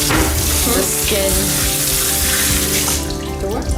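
Tap water runs steadily and loudly into a sink for a thirsty kitten, a continuous splashing gush that tapers slightly near the end.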